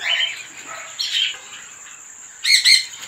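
A cockatiel chick gives thin, high chirps in short bursts with pauses between, close by and fairly clear over a quiet background.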